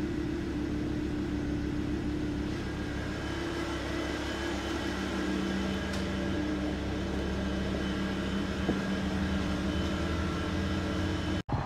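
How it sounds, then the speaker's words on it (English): A Volvo S40 T5 engine idling steadily after an engine swap, with a bad pulley, a continuous even hum with faint whine, close and unbroken, ending abruptly. "So guys, the car is running."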